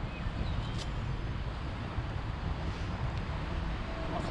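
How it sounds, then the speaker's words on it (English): Wind buffets the microphone in a steady low roar, with faint gusty variation and no voices over it. "it's quite windy today as well"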